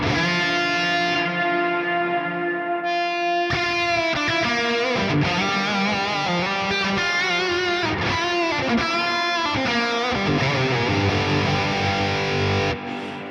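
A heavily distorted electric guitar played through a Neural DSP Quad Cortex with high gain rings out sustained chords and notes, washed in long reverb that lingers and swells before fading at the end.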